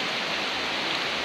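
Heavy rain pours down outdoors as a steady, dense hiss of close, loud downpour with no pauses or voices over the brief stretch.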